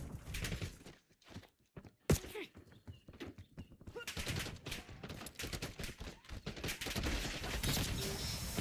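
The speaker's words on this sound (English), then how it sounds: "Incoming fire." Bursts of gunfire crack in rapid volleys during a Black Ops 7 match, alternating with brief quieter gaps and footsteps, moderately loud with a voice talking at times.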